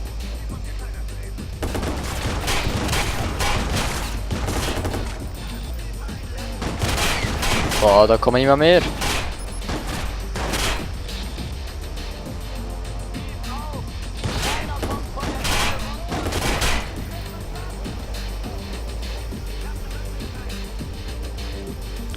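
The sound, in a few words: gunfire in video game Watch Dogs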